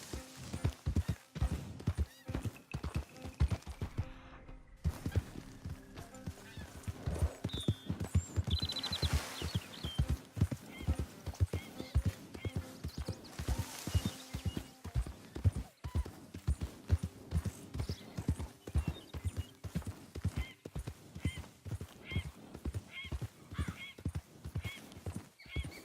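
Horse hooves clip-clop steadily at a brisk gait in the Red Dead Redemption 2 video game, near and continuous for the whole stretch, with occasional whinnies and neighs mixed in; no talking.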